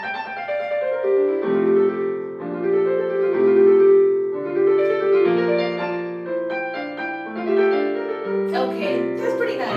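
Electronic keyboard playing its built-in demo song, a melodic tune with sustained synth tones and accompaniment, clear and steady at moderate volume.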